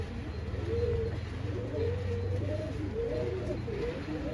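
Pigeons of a paired racing line coo close by in a series of soft, rhythmic, repeated calls, with a steady low background hum and no talking.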